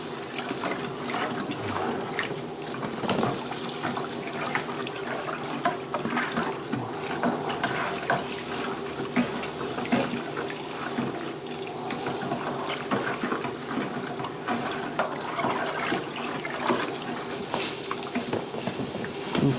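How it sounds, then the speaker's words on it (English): Steady running hot water pours and splashes into a container to dissolve sugar for a rum wash, a continuous rushing flow with faint trickling detail throughout. "I might have to add in some more hot water"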